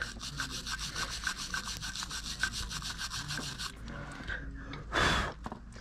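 A brake caliper piston on an F56 Mini John Cooper Works with Brembo brakes is rubbed off by hand, a close, quiet, rhythmic scrubbing in even strokes followed by a brief louder burst.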